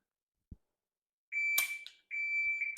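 Two long, steady electronic shot timer beeps during dry-fire practice, each held about half a second, separated by a brief gap, with a faint click beforehand.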